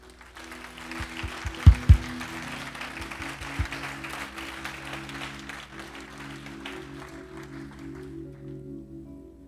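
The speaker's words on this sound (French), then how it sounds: "Est-ce qu'on peut applaudir Dieu?" A church congregation applauds God in scattered, moderately loud clapping with a few sharp knocks early on, thinning out and fading toward silence near the end.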